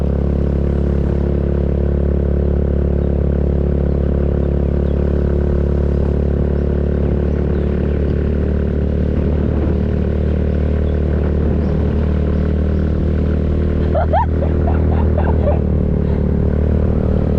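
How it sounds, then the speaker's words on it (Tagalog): A scooter engine drones continuously at a strained, labored pitch while climbing uphill, close and loud, with brief clattering near the end. "Grabe, hirap ang scooter."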